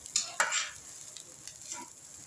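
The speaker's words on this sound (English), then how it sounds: "give it a good mix" Spoon stirring carrot rice mixed with a roasted, powdered blend of dry coconut, coriander seeds, cumin seeds and chilli in a pan, giving a few soft scraping strokes with light sizzling, close and fairly quiet.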